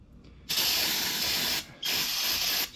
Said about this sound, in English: Spray it on the rag